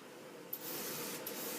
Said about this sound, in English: So let's go ahead and spray in there.